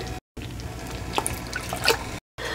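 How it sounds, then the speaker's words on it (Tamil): Hot water poured into a pot of moong dal payasam (paruppu payasam) makes a steady liquid pour with splashy trickles, close and continuous for about two seconds, with brief silent gaps at both ends. "இப்போ நான் இதுக்குள்ள கொஞ்சம் சுடுதண்ணி ஊத்திக்கிறேன்."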